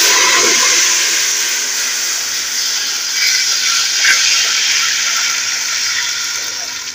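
Three litres of water poured into a large pot holding one and a half kilograms of rice, a steady loud rushing and splashing that runs the whole time, outdoors in a Pakistani Punjab village kitchen.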